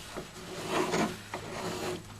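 A scribing tool scratches a line into a small wooden pony keg, giving a few close, dry rasping strokes with brief pauses between them.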